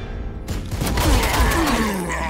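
Gunfire in the Warhammer 40,000 Sanctus Reach strategy game, a sustained loud barrage of shots and thuds after a brief quiet start, with faint talk underneath.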